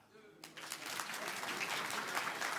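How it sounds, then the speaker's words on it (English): A conference audience at RoboCon 2024 breaks into applause after a brief lead-in, clapping quickly swelling and holding steady, fairly loud and close for the rest of the short moment. "Please clap."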